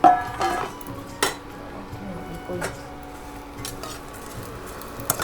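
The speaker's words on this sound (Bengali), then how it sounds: "সুজি আর সেমাই একসাথে দিয়ে আমি ভেজে নেবো একটু।" Vermicelli and semolina frying in ghee in a pan: a soft sizzle underneath repeated clinks and scrapes of a spoon against metal, with several sharp knocks spaced through the stretch.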